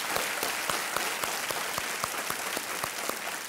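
An audience on the Indian game show KBC bursts into steady, close applause to welcome a contestant's husband, a dense run of clapping that holds at an even level throughout with no one talking.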